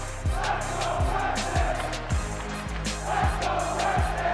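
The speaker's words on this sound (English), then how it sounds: "Crowd giving their respects to Prestinni" A large crowd at an esports tournament, a Stage V Major elimination match between Vancouver Surge and FaZe Vegas, roars steadily with loud rhythmic thumps of stomping or clapping about twice a second.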